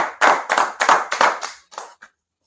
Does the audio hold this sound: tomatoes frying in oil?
no